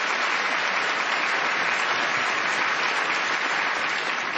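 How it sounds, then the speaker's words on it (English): Comedy show audience gives a round of applause for a volunteer, a dense, continuous roar of many hands clapping at even loudness throughout. "Let's have a round of applause for Ben Moore."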